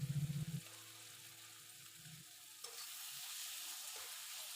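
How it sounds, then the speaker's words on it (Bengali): Tomatoes with salt frying in oil give a steady sizzle with brief stirring scrapes at the start, continuing alone and close up. "টমেটোটা যাতে একটু গলে যায় তেলে দিয়ে ভাজতে দিয়ে, সেজন্য একটু নুন দিয়ে নিলাম"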